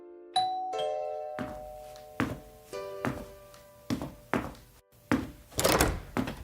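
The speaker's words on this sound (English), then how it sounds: "the doorbell rang." A doorbell chimes once inside a quiet home, its ringing tones sustained, followed by a series of dull thuds and knocks as someone moves about near the door.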